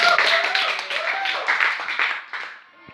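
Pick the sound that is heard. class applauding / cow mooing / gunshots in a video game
class applauding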